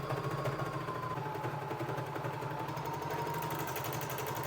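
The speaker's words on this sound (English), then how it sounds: "first I'm going to sew up the shoulder side seams" A sewing machine runs steadily, stitching the shoulder seams of a vintage-style sweatshirt with a continuous, even mechanical hum and rapid needle rhythm throughout, fairly quiet and alone.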